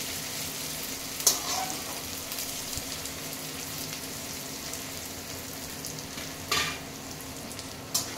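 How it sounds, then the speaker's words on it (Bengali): Chopped onions fry in a pan for palak paneer, giving a steady, close sizzle throughout, with a couple of sharp clinks from stirring near the start and near the end. No one speaks. "পেঁয়াজটা একটু লাল লাল হয়ে যাক"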